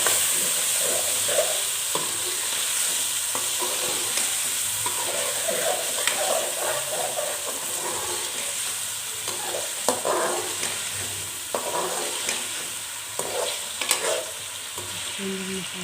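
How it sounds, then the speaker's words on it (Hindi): Two chopped medium tomatoes fry in a pan under a steady, close sizzle, while a utensil scrapes and stirs in irregular strokes throughout. No one speaks. "इसको भी अच्छी तरह से भून लेंगे इसमें।"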